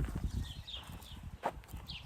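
Hooves of a horse thud and shuffle on the ground as it is led up beside an Appaloosa, a few soft irregular steps close by with a faint bird chirp.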